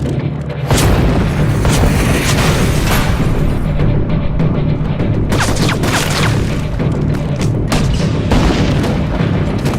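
Heavy gunship cannon fire from a Spectre in Call of Duty Modern Warfare 2 pounds a barracks, a dense continuous barrage of booming blasts and explosions, loud and sustained with no talk.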